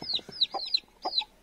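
A rooster and hens cluck in short, close, repeated bursts, a few quick calls with brief pauses between them and no talking.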